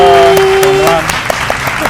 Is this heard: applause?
yes